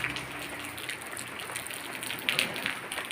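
Steady rain pours down with a dense hiss, drops pattering on nearby surfaces, with occasional louder splashes.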